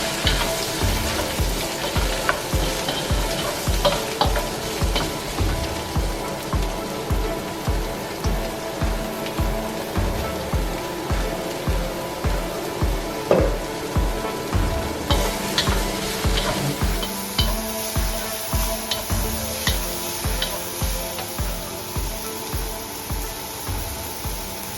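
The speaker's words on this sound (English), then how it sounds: "saute a little bit vegetables" Mushrooms and other vegetables sauté in a pan for a beef stir-fry with rice noodles, a steady loud sizzle broken by rhythmic scraping stir strokes throughout, with no voices.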